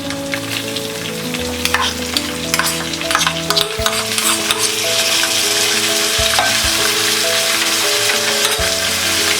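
Tomato, salt and turmeric frying in a pan over a low flame for bread upma, stirred with a steady loud sizzle and repeated scraping strokes throughout, no voices.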